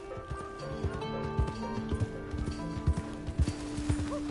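A horse's hooves clip-clop in a PS4 video game, a steady close trot over background music, with a short whinny near the end.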